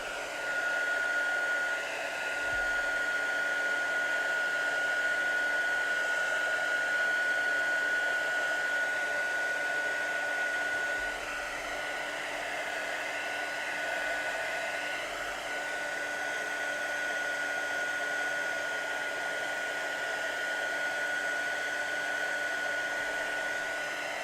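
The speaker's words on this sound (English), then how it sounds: "I'm just gonna use the heat tool just to see." A crafting heat tool blows hot air over a stamped Christmas card, a loud, constant whirring hum with a high whine that holds steady for over twenty seconds, alone and close.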